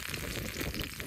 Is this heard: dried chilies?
yes